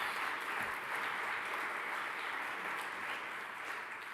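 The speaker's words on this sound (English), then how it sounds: "let's give that group one final round of applause." Steady round of audience applause at an awards ceremony, continuous clapping heard from a distance that fades slightly toward the end.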